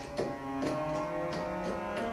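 A plain, synthetic-sounding string sample plays a short sequence of sustained notes, each starting abruptly with no swell or vibrato, sounding flat and lifeless.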